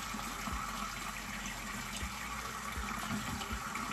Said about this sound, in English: I'm just getting the water ready,